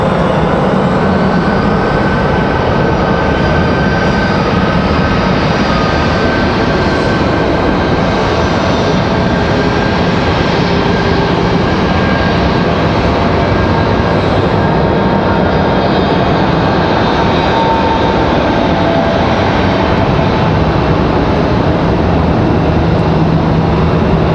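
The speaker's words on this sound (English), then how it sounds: "So we got that Delta CRJ over there." Delta CRJ regional jet at Raleigh Durham airport, a steady broadband engine roar heard from a distance, continuous and unchanging for the whole stretch with no talking.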